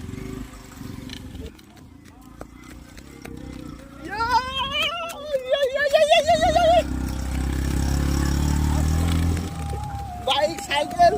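Motorbikes pass on a road to a river during a Shivaratri bathing trip, a low engine rumble swelling midway and holding for several seconds before fading, with voices heard over it.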